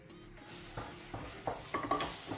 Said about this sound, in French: je mélange la pâte d'arachide